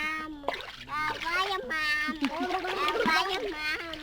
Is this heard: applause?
no